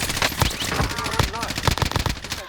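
Rapid automatic gunfire from the game Call of Duty Warzone, loud repeated bursts of sharp shots with short gaps between them, heard close alongside voices.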